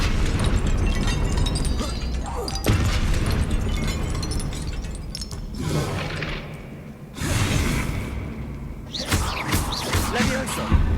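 Incendio and Confringo spells in Hogwarts Legacy blasting repeatedly, loud fiery explosions and whooshing bursts one after another, with a few brief gaps between bursts.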